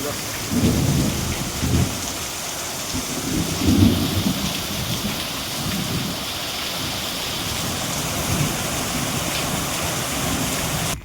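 Heavy rain pours steadily throughout, with low rumbles of thunder rolling in several times, strongest around the middle.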